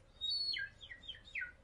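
A series of short, high bird chirps and tweets, apparently imitated by a human voice as a sound effect. The calls are quick and fairly faint, with a few separate downward-sweeping notes and no speech.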